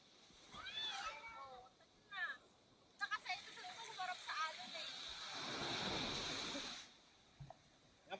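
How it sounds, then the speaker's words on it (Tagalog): Ocean waves wash onto a sandy beach with a broad rushing surge, while people nearby talk and call out over the surf. "Yan pare, malalaki alon"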